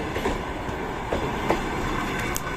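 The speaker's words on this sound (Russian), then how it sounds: "Точно это другой поезд-то." Train passing by a station, a steady rumble of railcars with faint clickety-clack of wheels over rail joints and occasional light squeals, continuous and moderately loud.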